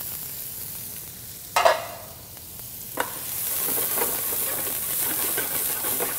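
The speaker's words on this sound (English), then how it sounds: "So I want to saute my onion." An onion sautéing in a pan over medium-high heat sends up a soft, steady sizzle, broken by two brief sharp clatters of stirring before the frying hiss settles in evenly and a little louder.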